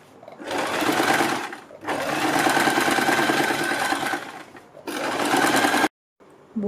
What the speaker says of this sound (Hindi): फिर दूसरी साइड हम ये सिलाई लगाएंगे